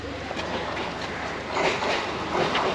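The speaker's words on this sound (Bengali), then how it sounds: "আচ্ছা ট্রেন আসছে, যেটা আমাদের চক্র রেল যেটা আমরা বলে থাকি, ট্রেন আসছে" Habra local train pulling into a station on the Kolkata circular rail, a steady broadband rumble of wheels and carriages that swells slightly near the end, with no talk over it.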